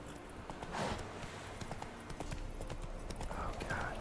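Horse hooves clip-clop steadily in the Witcher 3 video game, a close, rhythmic patter of footfalls with a faint whinny-like tone near the end and no speech.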